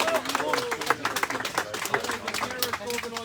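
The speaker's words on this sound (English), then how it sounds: "round of applause" A crowd at a street protest in Sydney claps in a brisk, dense patter, with voices talking over the applause throughout.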